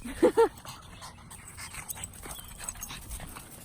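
Dogs playing close by, with a couple of sharp yips at the start followed by steady rapid panting and small whimpering sounds under faint background noise.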